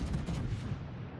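Heavy main-gun salvo from the tier 10 battleship Thunderer in World of Warships, a deep low boom with rumbling tail that fades, fairly quiet and with no voice over it.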